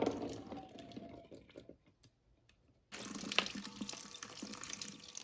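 Liquid drains from a can of red kidney beans into a sink, pouring steadily, then briefly stopping and pouring again, close and fairly loud, with no voices.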